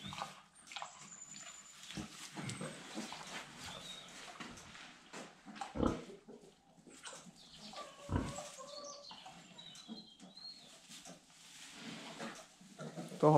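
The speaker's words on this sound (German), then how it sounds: "Da grunzt es ja schon wieder richtig laut." A pig on a farm grunts, with irregular close grunts and snorts over a few seconds, alongside scattered farmyard noises and faint bird chirps.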